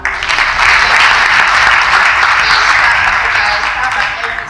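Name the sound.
audience clapping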